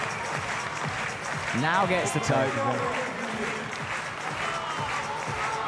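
A crowd applauds and cheers a climber during a bouldering round at the 2022 European Championships in Munich, a steady, full roar that swells midway while a commentator talks over it.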